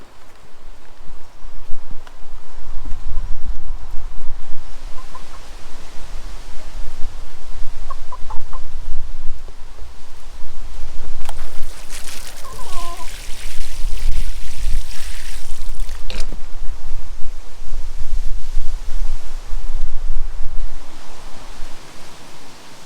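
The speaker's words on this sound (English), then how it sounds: "Not ideal seed sowing weather, particularly for tiny ones in this wind," Gusty wind rushing through a garden, a broad blustery noise that rises and falls, with a rooster crowing and clucking nearby and occasional knocks.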